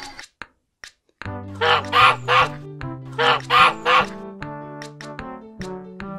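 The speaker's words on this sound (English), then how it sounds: "Goose." A goose honks in two clusters of harsh, nasal calls, loud and close, over the bouncy backing music of a children's farm-animal song.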